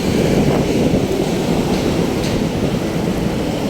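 Steady, loud wind roar buffeting the microphone throughout, a dense low rumble with no breaks, while cycling on a paved road.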